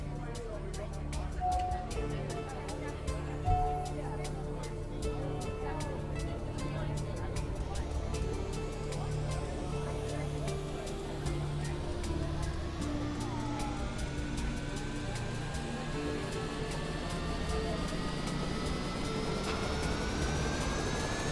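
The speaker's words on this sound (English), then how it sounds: "Starting engine 1." A jet airliner engine spools up in Microsoft Flight Simulator 2020, a steady low roar with a rising whine building over about twenty seconds, loud and continuous, while a synthetic cockpit voice speaks briefly over it.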